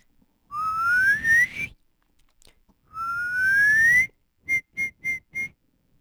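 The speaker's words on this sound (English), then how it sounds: "Suddenly, out came a real whistle." Two long rising whistles, each sliding upward in pitch, followed by four short, even whistle toots in a quick row; fairly close and clear.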